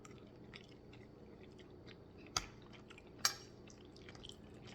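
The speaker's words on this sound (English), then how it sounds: "So let's taste lupini pasta." Quiet, moist chewing of lupini-bean keto pasta in a still room, with two sharp bite clicks standing out against soft, steady mouth sounds and no talking.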